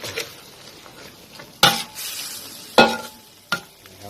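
A spatula scrapes and clinks against a pan over low heat as fermented soybean paste dip is stir-fried. The strokes come in a few sharp, close bursts over a soft background, with no talking.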